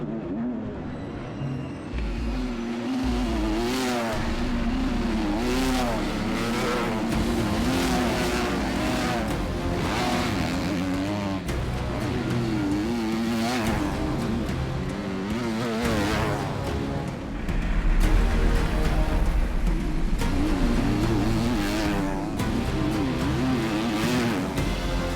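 Motocross bikes racing on a dirt track after the gate drop, a dense, loud roar of several two-stroke and four-stroke engines revving and shifting continuously, swelling near the end.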